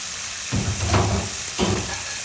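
Onion flowers and snow peas are stir-fried in a hot pan, with two loud bursts of sizzling as they land and get tossed, over a steady background hiss.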